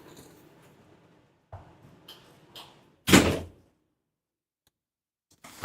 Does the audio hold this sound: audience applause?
no